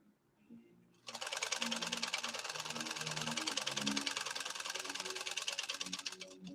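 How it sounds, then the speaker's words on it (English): A PFAFF 130-6 sewing machine fitted with an embroidery kit stitches an embroidery pattern, running at a fast, steady, rapid mechanical rattle after a quiet start. Close and loud, with no talk. "let's sew this stitch now that I just picked"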